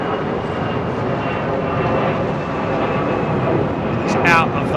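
A Korean Air Boeing 747 departs London Heathrow on a summer evening, its engines producing a loud, steady, broadband roar that fills the whole stretch, with a brief sharper flutter near the end.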